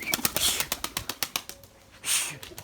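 A white Erzurum pigeon makes a rapid burst of wing claps and flapping, followed by a brief rustle, close by and fairly faint.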